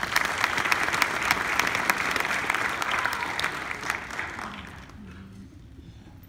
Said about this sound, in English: Please give the doctor a round of applause.